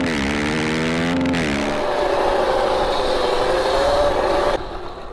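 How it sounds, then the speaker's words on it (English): A 72V Sur Ron electric motorbike fitted with a primary chain drive whines and rattles with chain noise, the pitch climbing then settling into a loud steady drone before dropping off sharply near the end. "It's just kind of a lot of chain noise, as opposed to one of those nice,"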